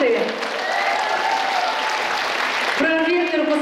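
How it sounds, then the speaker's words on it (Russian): An audience at a concert on the Buryat State University stage applauds loudly and steadily, a dense wash of close clapping that carries on throughout. Some tonal sound rises near the end. "ваши аплодисменты!"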